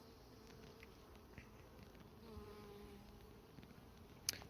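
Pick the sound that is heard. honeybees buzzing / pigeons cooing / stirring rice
honeybees buzzing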